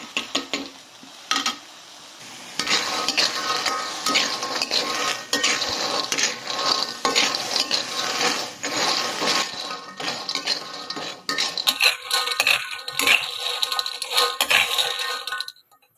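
Job's tears seeds dry-roasting in a pan, with clinking and scraping as they are stirred and scattered sharp little pops and crackles, close and busy, growing more spread out toward the end.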